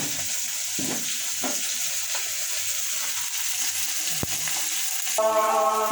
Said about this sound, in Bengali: বড়ি ভাঙ্গা দিয়ে দিলাম